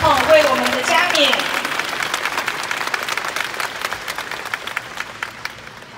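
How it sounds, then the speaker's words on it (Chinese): Audience applause for the president at an Asia Aviation company event in Taiwan, loud dense clapping filling the room throughout, with a voice speaking briefly over it at the start. "让我们用最热烈的掌声，感谢总统为我们的加冕"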